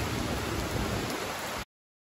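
Rain pours down on Koh Samui island in Thailand, a dense, steady hiss with close, loud patter that continues without pause and then cuts off abruptly, with no voices.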